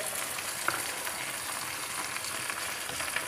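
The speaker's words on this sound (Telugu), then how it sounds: "ఇంకో ప్యాన్లో మిరపకాయలు వేయించుకోవాలండి" Chillies fry in a pan for gongura pachadi. The oil gives a soft, continuous crackling sizzle with tiny pops, steady and fairly quiet, with no voices.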